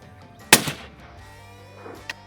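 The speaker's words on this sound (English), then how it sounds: "the pop can was shot" A single gunshot fired at a pop can target during a hunting marksmanship drill cracks out sharp and close, followed by a fainter click about a second and a half later.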